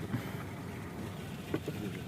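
A motorized jukung boat on the water gives a steady low rumble with wind noise, heard close and continuous, with faint knocks over it.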